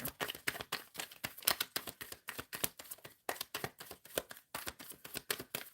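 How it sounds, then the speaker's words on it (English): A deck of tarot cards is shuffled close up in quick, crisp bursts of riffling clicks and flutters, repeating steadily with short pauses, quiet and without speech. "Shuffling for Jazz for November"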